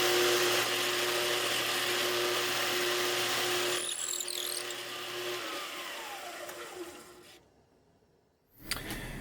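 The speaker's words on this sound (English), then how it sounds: "we're going to drill out the hole here" A power drill fitted with a 3/8 inch bit bores into a wooden pen blank cut from whiskey barrel wood. It gives a steady high whine for about four seconds, then winds down and falls quiet before a brief bump at the end.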